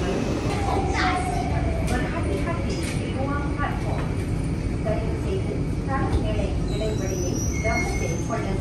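The inside of a moving MRT metro train carries a constant loud rumble and rattle, with chatter and brief bright squeals over the roar.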